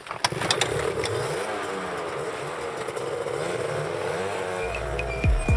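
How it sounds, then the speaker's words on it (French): A motorcycle engine runs steadily and close by, pulling away from a sports event in France, with a sharp rev toward the end. "on vous laisse repartir à moto"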